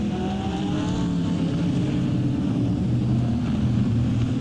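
Porsche GT3 race car at Monza during a Grand Prix race, a loud steady engine roar close by with shifting pitch as it brakes into the chicane, continuous and without talk.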